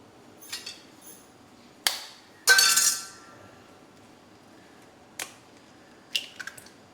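A few sharp taps against a hard rim, then a brief crackly break with a wet drip, followed later by scattered light clinks in a quiet room.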